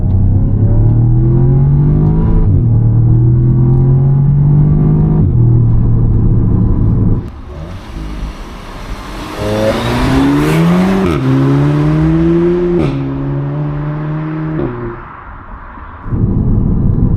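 A 2014 Audi S3 8V1 with its turbocharged EA888 engine and S-Tronic gearbox pulls hard through the gears, loud engine drone rising in pitch and dropping at each shift, with a burst of rushing intake and turbo noise midway.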